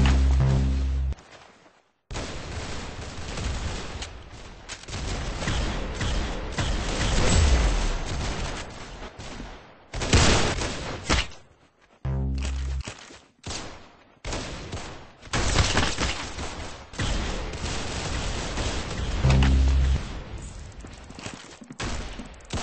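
Rapid gunfire from the Arsenal video game, with bursts of shots and booms running almost continuously, broken by short silent gaps, loud and up close.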